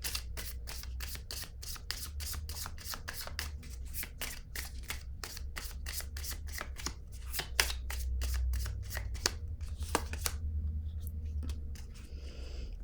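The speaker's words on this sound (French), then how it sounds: "Je vais piger une carte noire." Playing cards riffled and handled from a deck during a card reading, a long run of rapid crisp flutters and clicks, close and steady, with a brief pause near the end.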